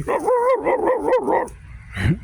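A man imitating a dog, giving a run of wavering, whiny fake barks and yips, close and loud, then a short pause and one final bark-like yelp.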